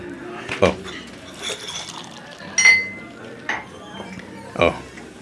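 Glasses clink together in a toast over drinks with crispy pata as a snack, a few bright clinks spaced over several seconds, with soft voices around them.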